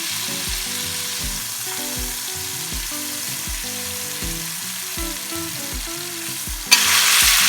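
Brown-sugar-marinated pork searing and caramelizing in a hot pan, a loud steady sizzle that swells sharply near the end, with no talking.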